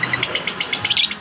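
Rapid, high-pitched chirps from lovebirds repeat in quick bursts, close by and fairly loud, with no talking.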